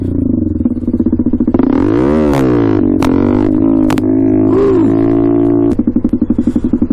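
A 2023 Honda Grom motorcycle pulses at idle up close, then revs hard, rising and falling in pitch during a wheelie attempt with a few sharp clatters, before settling back to a lumpy idle.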